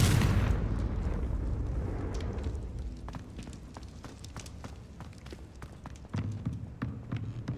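A Confringo fire spell explosion in the video game Hogwarts Legacy bursts loudly at the start and rumbles away, followed by quieter in-game footsteps and clicks.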